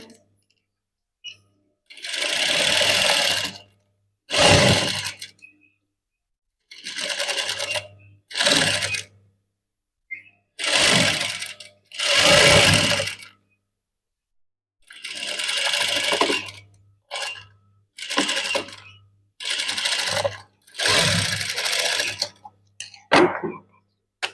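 A sewing machine stitching the sleeves of a maggam work blouse, running in repeated bursts of one to two seconds with short pauses between, loud and close, and no talk.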